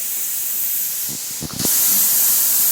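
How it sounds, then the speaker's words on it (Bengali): Luchi, a puffed flatbread, deep-fries in hot oil during Eid cooking, giving a bright, steady hiss. A brief clatter comes midway, after which the sizzle swells louder and continues alone. "আর এইদিকে লুচি ভাজা হচ্ছে"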